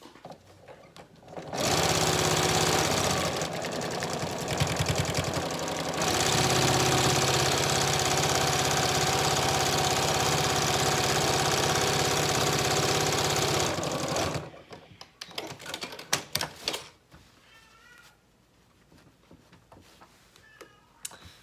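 A sewing machine stitches a fabric scrap bag in two long, loud, continuous whirring runs with a brief pause between them, then stops, leaving faint handling clicks and rustles.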